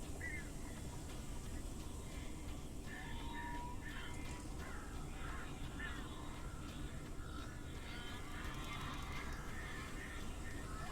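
Crows cawing repeatedly in the video game Alan Wake, a series of harsh calls spread across a steady, dense ambient background rumble, moderately distant.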